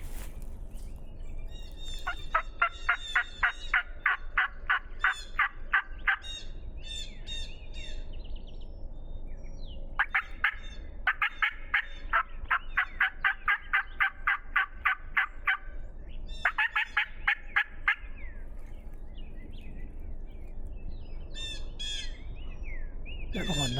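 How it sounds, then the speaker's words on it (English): Wild turkeys gobble in West Virginia, sounding as repeated rattling bursts, some doubled and tripled, at moderate distance over a steady outdoor background. "With those gobbling and me calling, they're like double and triple gobbling now."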